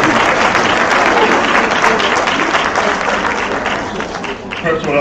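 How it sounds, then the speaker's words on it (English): A crowd applauding steadily at a dean's list award ceremony for a school of science, health and technology, dense and loud throughout before tapering slightly near the end. "you don't have to applaud for that"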